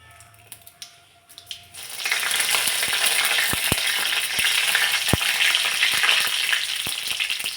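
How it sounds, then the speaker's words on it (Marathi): Cumin seeds dropped into hot oil in a kadai burst into a loud, steady sizzle with sharp crackles and pops. A few quiet clinks come first, and no one talks. "तेल तापलं की त्यामध्ये लसूण न घालता मी जिरे घातलेत"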